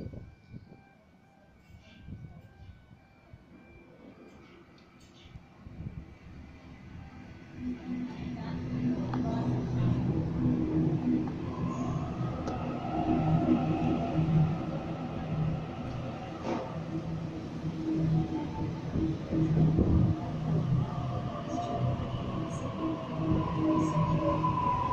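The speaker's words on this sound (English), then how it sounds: "A8 arriving onto platform number one, the only platform here at East Richmond, for a North Sydney service." A Sydney A8 train pulls into the single platform at East Richmond station, a rising rumble and whine building from quiet and holding loud as the train arrives, with a station announcement voice heard early on.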